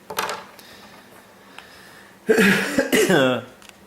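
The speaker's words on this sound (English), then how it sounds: "Sorry for my coughing." Close coughing: a short cough at the start, then after a pause a louder, harsher bout of several coughs.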